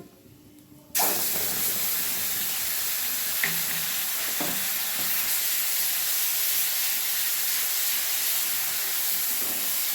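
Prepared spice paste for a fish curry hits hot oil with a sudden loud burst of sizzling, then settles into a steady frying hiss with a few faint stirring knocks.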